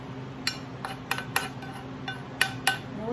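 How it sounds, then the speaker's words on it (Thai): Fried garlic is tipped out into a dish, giving several sharp clinks and scrapes of utensils against crockery at irregular intervals, close and moderately loud, with no talking. "เทกระเทียมเจียวกัน"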